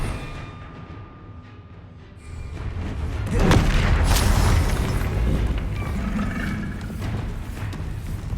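The Revelio reveal spell in Hogwarts Legacy on PS5 sounds as a deep, rumbling magical boom that swells after a quiet moment, then holds as a sustained shimmering low roar with no speech.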